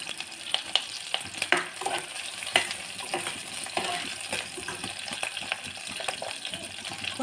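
Curry leaves sizzle in hot oil alongside the clink and scrape of stirring in the pan, a continuous close frying hiss punctuated by sharp metallic taps.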